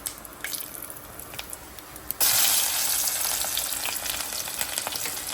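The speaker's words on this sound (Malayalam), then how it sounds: "കറി തിളയ്ക്കുമ്പോഴത്തേക്ക് നമുക്ക് കടുവ് വറുത്ത് വെക്കാം" Mustard seeds and dried red chilies hit hot oil for a Kerala-style tempering for a taro curry; after a quiet start, a sudden loud sizzle erupts and continues with crackling pops.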